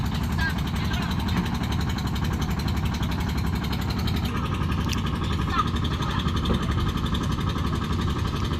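A vehicle engine, brought back to life after adding fluid, runs steadily with a continuous loud low rumble and clatter, close by, with no break across the whole stretch.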